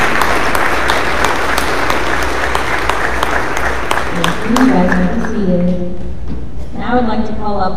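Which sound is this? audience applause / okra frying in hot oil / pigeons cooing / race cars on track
audience applause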